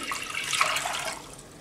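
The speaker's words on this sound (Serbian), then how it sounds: "Uzet ćemo jednu posudu i u tu posudu sipat ću 600 ml vodu" Water poured into a bowl, 600 ml measured out while making a cherry and poppy seed pastry, gives a steady, moderately loud wash of splashing liquid for under two seconds with no voices.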